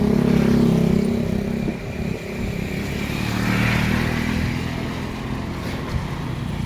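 Motorcycles rumble past on a road, engines droning loud at first, then easing off and building again as more bikes go by, with a faint clatter in the background.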